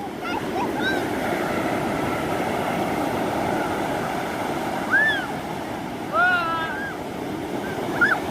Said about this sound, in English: It is high tide and the water splashes all the way up.